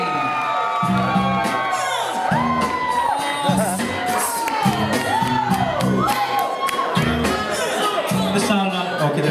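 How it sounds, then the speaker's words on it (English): Wedding reception guests cheer, whoop and shout for the best man, a loud crowd roar with rising yells and chatter running throughout, fairly close and continuous. "Please give a great big round of applause for the best man tonight"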